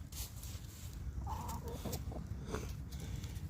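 Chickens cluck in an outdoor pen at Fort Christmas, a few short clucks and calls rising over a steady background of wind and ambient noise, with no talking.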